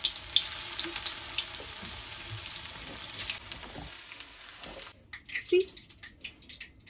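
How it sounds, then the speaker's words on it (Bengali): Chicken pieces sizzling in hot oil, a steady bright frying hiss through most of the stretch, ending in a quieter gap with a few crackles. "তেলটা একদম আমাদের গরম হয়ে গেছে। একটা একটা করে এই চিকেন দেবো।"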